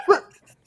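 A man gives a single short, sharp bark imitating a dog, close and loud, then fades quickly into quiet.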